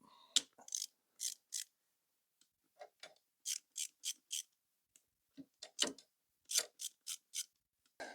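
Spring-loaded clutch cover bolts on a KTM 390 Adventure being loosened with a ratchet, short crisp clicking bursts in separate runs with brief pauses between, close and alone.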